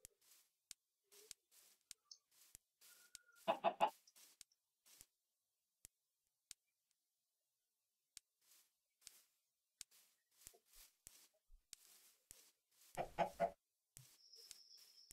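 A video game chicken clucks in a village setting, with two short bursts of clucking about ten seconds apart and faint clicks between them, against an otherwise quiet background.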